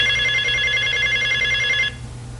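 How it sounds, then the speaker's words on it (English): A telephone rings with a continuous bright electronic trill, close and fairly loud, then cuts off abruptly just before the end. "It's the Inky Dinky phone again."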